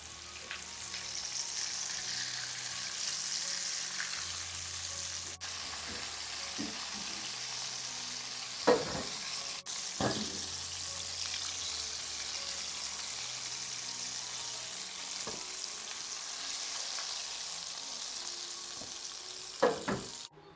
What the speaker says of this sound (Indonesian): Ini kita goreng sampai selesai teman-teman.